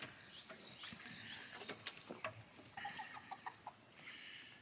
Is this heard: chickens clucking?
yes